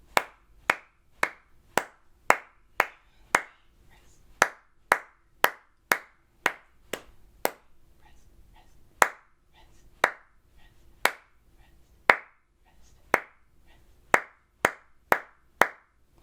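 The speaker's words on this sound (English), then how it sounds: "Let's do the clapping one more time together" Sharp single hand claps beat out a rhythm exercise during flute practice, near and distinct, in groups with short rests between, alone with no talking.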